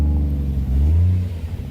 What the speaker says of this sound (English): I guess Nismo wheels look pretty cool when they're spinning.